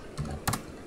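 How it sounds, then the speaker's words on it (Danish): Typing on a computer keyboard: a few quick, close key clicks in two short bursts, with no talking. "Jeg kan høre, at du skriver et eller andet."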